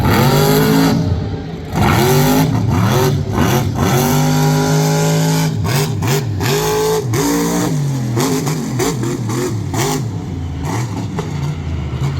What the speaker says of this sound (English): Truck shuts off, and he is done now.